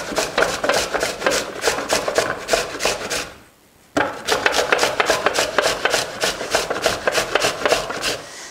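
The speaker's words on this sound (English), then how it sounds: "Peeled and grated, and just use the coarse side of the grater." A peeled parsnip is rasped over the coarse side of a grater in quick, rhythmic scraping strokes, close and fairly loud, broken by one short pause before the grating resumes.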